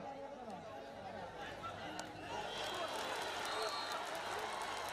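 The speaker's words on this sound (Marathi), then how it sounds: "टाळ्यांचा गजर ग्राउंड नंबर तीन वर पाहायला मिळतोय" Crowd applause and cheering at a local cricket ground, a broad wash of clapping that swells partway through, with a commentator talking over it.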